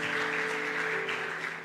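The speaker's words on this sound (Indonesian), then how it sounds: "Kasih tepuk tangan buat Tuhan." A church congregation claps in praise during a sermon, a brief, steady wash of applause with a faint sustained tone underneath, moderately distant.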